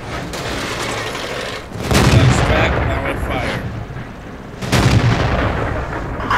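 Loud cannon blasts from a Grille self-propelled tank gun in World of Tanks on the Malinovka map, two heavy booms a few seconds apart over a constant rumbling engine bed.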